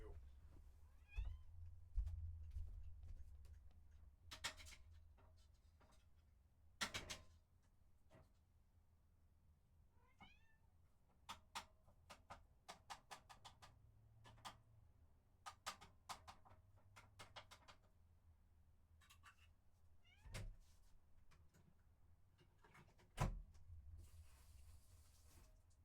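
A house cat meows a few times at a dim, faint level, mixed with clicks and room noise while someone talks now and then.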